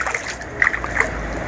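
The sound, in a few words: water splashing in a fish box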